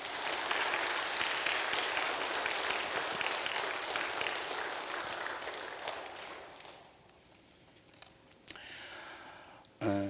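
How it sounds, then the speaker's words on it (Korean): A church congregation applauds during a revival service, steady dense clapping that fills the room for several seconds, then thins out and fades, leaving scattered claps and a few faint stray sounds near the end. "우리 오늘 하나님께 박수로 영광 올리겠습니다."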